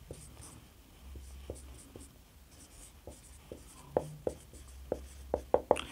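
Pen writing on paper, soft scratching strokes with quick taps and ticks in uneven rhythm, close and quiet.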